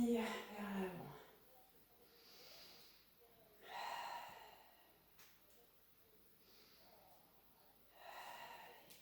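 Audible breaths during a Pilates exercise, with a few slow, breathy inhales and exhales spaced several seconds apart, close and soft, beginning with a brief burst of voice.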